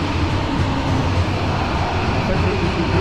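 A Tokyo subway train runs with a steady, loud rumble and rushing noise that stays even throughout, like riding inside the car.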